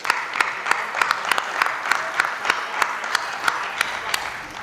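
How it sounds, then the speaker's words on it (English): A crowd applauds at a live wrestling match, a brisk run of claps with sharp individual hits standing out over a steady wash of clapping, no voices on top. "give him a big round of applause"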